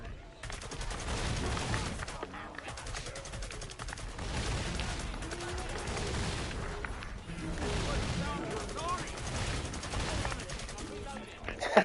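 Continuous dense gunfire in Killing Floor 2, with overlapping shots and blasts forming a steady, loud barrage across the whole stretch amid game noise.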